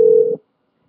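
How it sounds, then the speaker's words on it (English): A Skype call tone sounding as the call disconnects: a single steady electronic beep held for about a third of a second, loud and close, then cut off into silence. "Uh-oh, we got disconnected."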